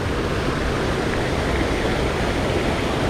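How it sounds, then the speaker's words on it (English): Big Daddy Falls, a water park waterfall raft ride at Water Country USA, gives a steady broadband rush of falling and churning water, continuous and fairly loud with no talk over it. "you can see them just going through waterfalls, hence the name Big Daddy Falls"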